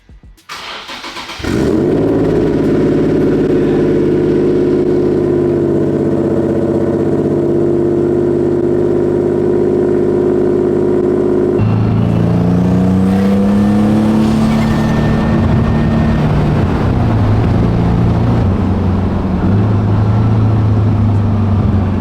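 A car engine cranks and catches, then idles loudly with a steady drone before revving higher in rising, falling surges.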